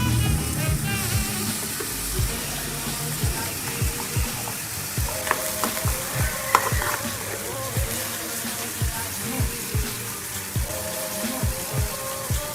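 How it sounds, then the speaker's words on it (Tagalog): Ligo canned corned beef frying and stirred in a pan for a guisado, a steady close sizzle broken by repeated scraping stirs and clinks, with faint talk and background music underneath. "Tapos ilagay lang ang ating Ligo corned beef at haluin lang mabuti."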